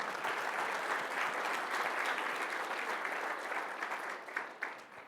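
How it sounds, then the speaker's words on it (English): A conference audience gives a big round of applause for visiting company executives: sustained, even clapping filling the room, thinning toward the end with a few louder individual claps. "Can we please give them a huge round of applause?"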